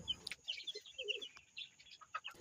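Tiger chicken chicks, a few days to a week old, peeping in quick high chirps, several overlapping short calls in a rapid irregular series, faint and close with no talk.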